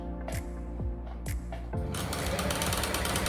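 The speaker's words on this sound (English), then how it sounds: "Now you see machine working and bobbin also working" A Janome 392 sewing machine runs while its bobbin winds, starting with a few distinct mechanical thunks and then settling into a fast, continuous rattling whir, close and loud.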